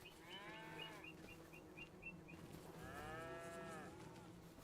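Cows moo in a pasture in Farming Simulator 25, one long drawn-out low call followed by another, fairly faint over a soft ambient background.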